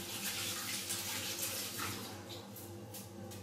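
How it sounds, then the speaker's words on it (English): Hands being washed under a running tap, a steady close rush of water with slight splashing shifts. "My hands is clean. I'm going to wash it again."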